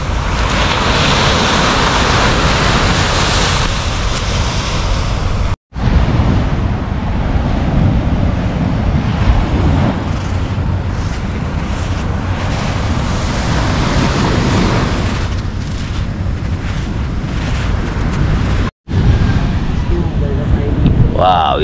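Sea waves washing onto the shore at Pundaquit Beach in the early morning, a loud continuous roar of surf buffeted by wind noise, with two brief dropouts.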